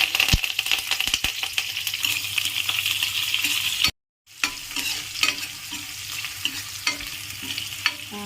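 Green chillies, onions and tempering seeds frying in a pan for upma, a loud steady sizzle with scraping stirs and clinks of a spoon, broken by a brief silence.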